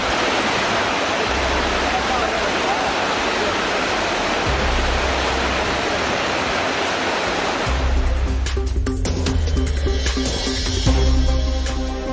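Flooded Courtallam main waterfall rushing hard, a dense continuous roar of water loud and close, with low thumps and broken bursts of noise in the latter part.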